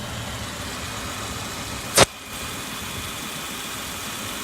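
A 2003 Kia Sorento engine with a misfire idles at a steady, moderate level up close, broken once by a single sharp click midway.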